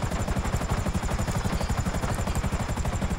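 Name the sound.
helicopter in video game GTA 5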